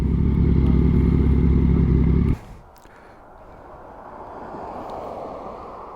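Loud close engine roar from a Yamaha MT-09 and Yamaha R6 in a neighbourhood, cutting off abruptly after two seconds and leaving a quieter, distant rumble of a bike moving away.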